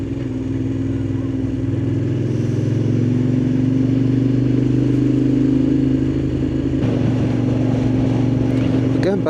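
A Moto Guzzi Griso motorcycle engine rumbles steadily and loudly throughout, its exhaust note rising slightly midway, with road noise and rattling underneath.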